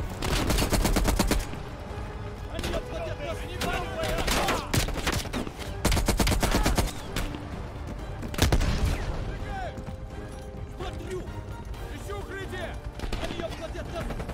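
Rapid automatic gunfire in Call of Duty: Black Ops Cold War, repeated loud bursts and single shots across the clip, with a voice talking over the shooting and background game sounds.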